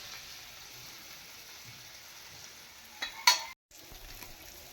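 Bangda mackerel fries on a wood-fired chulha, a faint low sizzle and crackle with a brief louder clatter near the end, then a short cut to silence.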